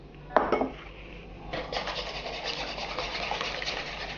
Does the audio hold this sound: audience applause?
no